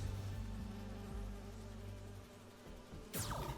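Insect-like buzzing of holographic bee wolves in Marvel's Spider-Man 2, a steady close drone with a low hum beneath, fading briefly before a sharp whooshing sweep near the end.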